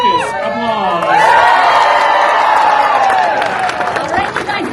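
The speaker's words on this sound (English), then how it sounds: "Circus applause." Audience at a Colorado Renaissance Festival show bursts into loud applause and cheering, a dense sustained roar of clapping and shouts that swells then slowly thins, with a voice briefly heard at the start.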